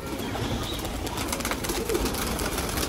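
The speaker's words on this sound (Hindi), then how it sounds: "जी उड़ा दिए कबूतर सारे" Flock of pigeons released from a rooftop loft, a dense steady rush of wing flapping with faint cooing against outdoor background noise.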